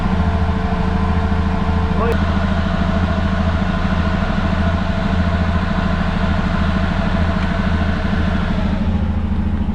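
A Yamaha Rhino 700 engine, freshly reassembled, idles slightly high with a steady, close, low rumbling drone that holds even throughout; a brief tap sounds early on.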